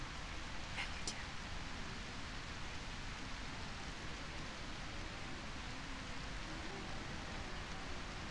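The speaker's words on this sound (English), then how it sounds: "The rain helps, but..." Steady rain falls in the horror video game A Quiet Place: The Road Ahead, a constant broadband hiss with a couple of faint brief ticks near the start, no other sounds over it.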